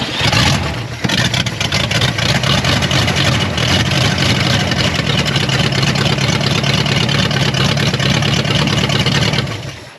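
A 1962 Cadillac Coupe Deville engine runs steadily close by, a loud, continuous rumble and roar after a brief start, with no talk over it.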